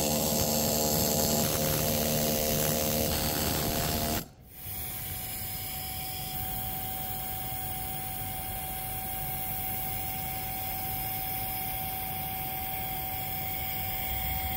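Gouging torch cutting at a seized nut on a large, costly hydraulic cylinder rod: a loud, steady roaring hiss that cuts out briefly, then carries on continuously with a persistent tone running through it.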